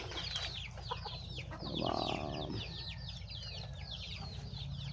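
Several backyard Rhode Island chickens cluck and chatter nearby in a busy, overlapping stream, with one louder call rising briefly in the middle.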